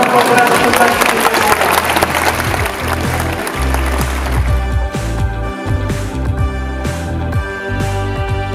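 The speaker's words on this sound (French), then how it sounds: "Applaudissements pour Nicolas" A crowd of newly recruited employees and guests at Arkéa's 2019 recruits' gathering applauds loudly for about four seconds, and the clapping then fades under rhythmic music with a deep beat.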